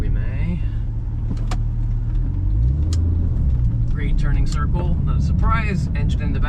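A Porsche 911 Turbo of the 997 generation drives and turns, its deep engine rumble steady and close throughout, with voices talking over it.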